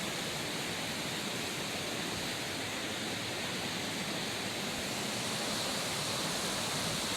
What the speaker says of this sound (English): We'll walk over a few more rocks and the waterfall's back there.